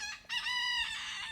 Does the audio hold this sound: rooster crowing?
yes